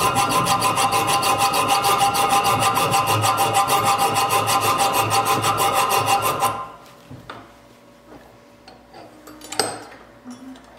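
A Dremel rotary tool cuts through a small stand, a dense steady grinding rasp running loud for about six seconds before stopping, followed by faint handling clatter and one brief sharp knock.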